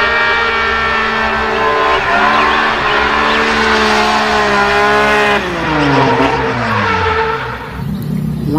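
A loud race car sound effect from a toy race car plays: a sustained high engine whine with shifting revs, then a falling pitch glide near the end.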